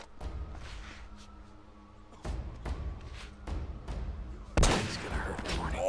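Sniper and gunfire in the video game Uncharted: Drake's Fortune, sharp shots cracking out at irregular intervals over a low game soundscape, with a louder burst near the end.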